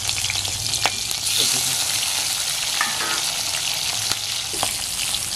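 Slit green chillies and half a tomato fry in hot salted oil, a dense continuous sizzle with occasional spatula scrapes and clicks as they are stirred, close up.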